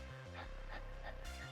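A person imitates a dog with a short, muffled bark-like yelp and whimpers, quiet and close.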